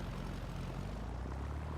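Cessna 172 propeller engine in the X-Plane 11 flight simulator throttling up on the ground, a steady loud low drone that deepens and thickens toward the end.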